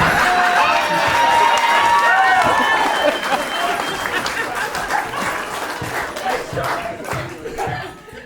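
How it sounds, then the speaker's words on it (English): A wedding crowd claps and cheers, the applause loud at first and gradually fading, with some laughter and voices mixed in. "Kieran Farrelly, ladies and gentlemen, round of applause"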